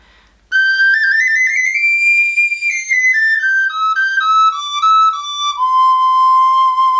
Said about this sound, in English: My garklein is made by Küng and it's in maple wood and it sounds like this.